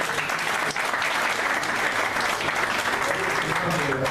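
Guests clapping during a civil wedding ceremony at a town hall, a dense continuous wash of applause from a room full of people, steady and fairly loud throughout with faint voices mixed in.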